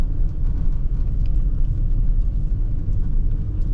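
A steady, low road rumble fills the cabin of a 2018 Bentley Bentayga W12 Signature Edition riding on upgraded thinner-profile Bentley wheels, a constant dull drone with no talk.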